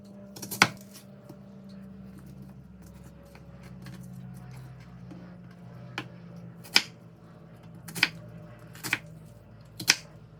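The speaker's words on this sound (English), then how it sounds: "Finely chop the onion." A few sharp, separate knife chops on a board as an onion is finely chopped, spaced irregularly, in a quiet room with a low background hum.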